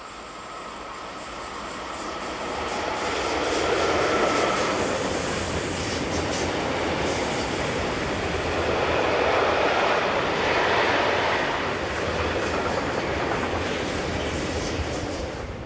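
A Swiss Re 6/6 Class 620 electric locomotive, number 664, passes east of Mühlen with a long rumbling, swelling roar of wheels and cars that builds, peaks and stays steady for a long while with no voices.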